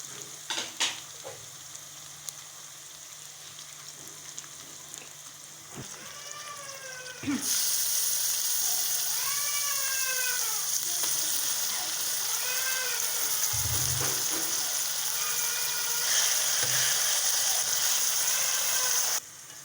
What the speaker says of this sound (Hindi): और पहले मैं इसमें कीमे को अच्छे तरीके से फ्राई करूँगी।